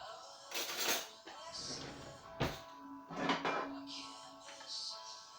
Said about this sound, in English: let me get myself a teaspoon